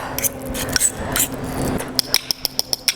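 A spoon scrapes and clinks against a bowl while mashed avocado is mixed with salt and lime juice, giving irregular rubbing sounds and then a rapid series of sharp, evenly spaced metallic taps near the end.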